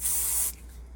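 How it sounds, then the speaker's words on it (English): IGK Speechless Dry Oil Finishing Spray for hair and body sprayed in one short, close hissing burst that cuts off after half a second, leaving quiet room tone. "the IGK Speechless Dry Oil Finishing Spray for hair and body"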